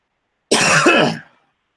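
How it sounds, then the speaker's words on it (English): A single harsh throat-clearing cough, loud and close, lasting under a second before trailing off into silence. "Every time I talk, I start having a cough"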